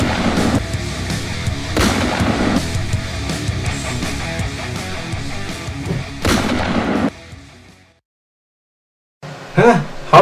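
Gunfire rings out as a string of loud, sharp blasts over a busy, rumbling background. The sound drops to near silence, then another burst breaks in at the end.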